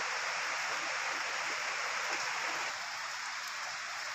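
Steady rain falls on a vegetable farm, a dense, even hiss of drops that continues without pause and eases only slightly near the end, with no talking.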